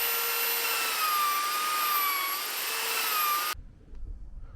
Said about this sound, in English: So I'm just going to fare that out with a belt sander